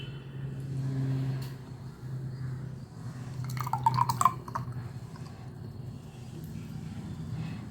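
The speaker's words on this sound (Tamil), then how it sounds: "இந்த தயிர் அப்படியே கலக்கி இது வீட்டில் உரம் ஊற்றுனது தான் கலக்கி இதில் ஊற்றிடலாம்" Homemade curd starter is stirred and poured into a pot of milk, giving soft liquid swishing and a brief splashy, dripping pour around the middle, fairly quiet and close, with no speech.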